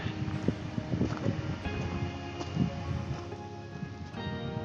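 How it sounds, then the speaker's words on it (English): Strong wind on a mountain top near a lookout tower roars and buffets the microphone in gusts, a constant rough rumble with no voices. "It is extremely windy up here."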